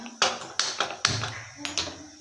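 Gas stove being lit in a home kitchen while flatbread is prepared: a quick run of sharp clicks and taps from the igniter, close and fairly loud, with a soft burst between them.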